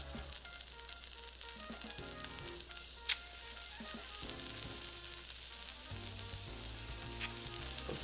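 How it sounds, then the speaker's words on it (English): Thin-sliced lean meat, Korean-barbecue style, stir-fries in a pot of molten tin, giving a steady bright sizzle and frying hiss with soft scraping and tossing sounds and one sharp click partway through. "Toss these guys around and tin real good. Kind of stir fry these."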